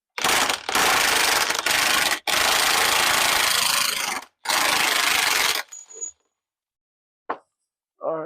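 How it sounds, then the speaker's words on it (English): Socket wrench working loose a steering pitman arm nut on a steering box swap: loud, sustained grinding and rasping bursts broken by short pauses, then a few faint clicks and taps near the end. "So we've got our socket. I'm going to put it on here and just break this loose."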